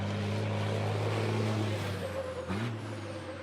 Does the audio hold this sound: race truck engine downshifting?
yes